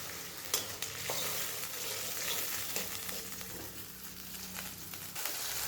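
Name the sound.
stirring a sizzling tempering with sugar and water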